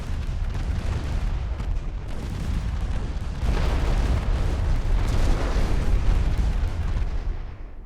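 Heavy naval gunfire in the warship battle game Ultimate Admiral Dreadnoughts, a dense, continuous rumble of overlapping booms and blasts that swells louder about halfway through and stays loud to the end.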